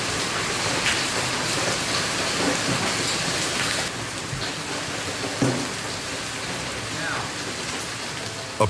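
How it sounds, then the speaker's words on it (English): A powerful hailstorm pounds Argyle, Texas, with a dense, steady roar of hail and rain striking surfaces and thunder rumbling underneath, loud and continuous throughout. "A powerful hailstorm swept through Argyle, Texas on June 11th, causing property damage across the area."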